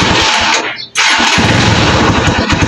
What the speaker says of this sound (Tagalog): Try natin biritin. Ayun pinigaan natin yung kanyang throttle. Namatay.